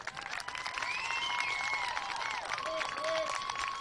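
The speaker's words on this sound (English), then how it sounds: "Let's all give Frostproof a round of applause" A crowd at a youth baseball Majors tournament applauds the Frostproof team with moderate, steady clapping mixed with whistles and a few high cheers, fairly distant.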